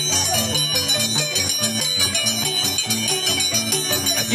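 A small harp plays a lively huayno tune, plucked notes ringing in a steady dance rhythm over a continuous bright, sustained backing tone, with no voices.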